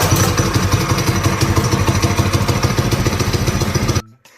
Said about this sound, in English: here's my Serengeti Puma with the Kickstarter. And let's see how it starts. Starts up pretty good.